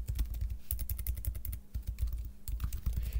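Rapid, continuous typing on a computer keyboard during a programming lecture, close and dense keystrokes with brief pauses, no talk.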